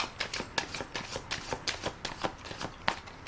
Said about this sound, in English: I'm going to put another rifle and shuffle on a deck